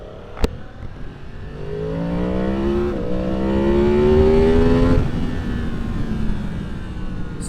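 Yamaha MT-10 motorcycle, a 2023 model, accelerating hard on a straightaway, its engine note climbing steadily in pitch for several seconds amid wind noise before easing off, loud and close.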